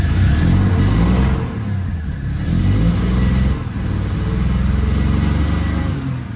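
A 1970 Triumph TR6 engine runs loud and close after starting, a rough steady rumble with a few revs and small dips in pitch, no talking over it.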